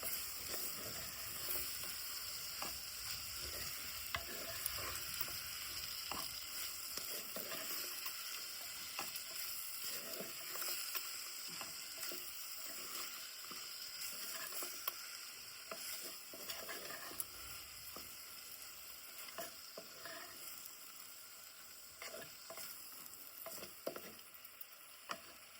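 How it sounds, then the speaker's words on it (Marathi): Snake gourd sabzi frying in a pan, a soft continuous sizzle with frequent scraping stirs and light taps throughout, fairly quiet and close, with no talking. "सर्व एकजीव करून घेऊया. व्यवस्थित मिक्स करून घालू."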